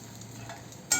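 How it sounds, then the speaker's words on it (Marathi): Cluster beans roasting in a pan, with a soft, steady stirring and sizzle for a single second and a brief, sharper scrape at the very end. "गवार आपली आता छान भाजून झाली आहे."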